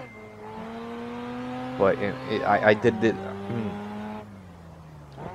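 An RX7 sliding with its rear end loose on a mountain touge road in Assetto Corsa, the engine droning steadily while tires squeal in choppy bursts midway, and someone speaks briefly over it.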